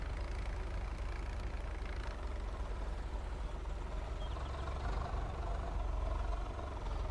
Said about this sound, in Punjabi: ਆ ਵੀ ਪਹੁੰਚ ਗਏ ਟਰੈਕਟਰ ਸਾਰੇ ਹੀ ਇੱਥੇ